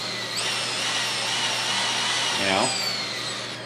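A brushless electric motor in an HPI Ford GT RC drift car whirs with a steady high-pitched whine that rises and falls in pitch, close and loud, while someone talks briefly over it.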